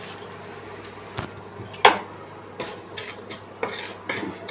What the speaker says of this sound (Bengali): তাই একটু ভেজে নিচ্ছি নুনটাকে খালি কড়াইতে।